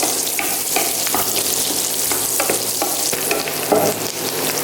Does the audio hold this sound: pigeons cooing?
no